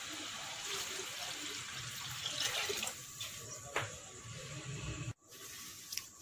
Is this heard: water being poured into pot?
yes